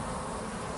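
Honeybees, small young bees on orientation flights at the mouth of a hive, making a continuous dense buzzing drone, steady and close throughout.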